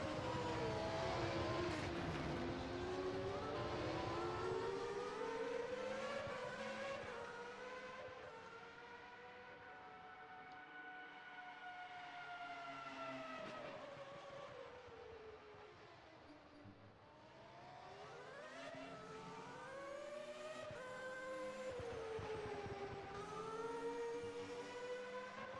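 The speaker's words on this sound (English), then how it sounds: "Cars are indeed out on track practicing." Race cars on track in a Grand Prix racing game at the Portuguese circuit, engines whining and sweeping up and down in pitch as they accelerate and pass, a long continuous drone at moderate level with no talk.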